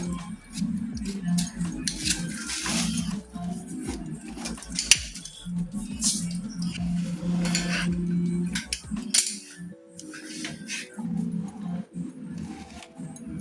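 A knife cutting ash gourd into pieces in a kitchen, repeated soft chopping and scraping taps against a board, close, with some clinking of utensils and no talking.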